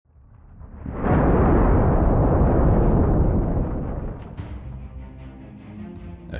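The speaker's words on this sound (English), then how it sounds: "a security camera captured the sudden explosion of a building on a tranquil afternoon" A building explodes in Beijing, China, captured by a security camera on a calm afternoon: a deep, roaring blast swells up and rumbles for several seconds before trailing off into scattered debris sounds.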